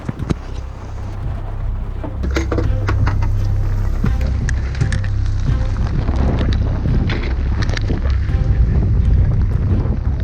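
Heavy rain and strong wind roar at night aboard a sailboat in Hawaii, a dense continuous wash of noise with scattered sharp patters and knocks, loud and close throughout, no voices.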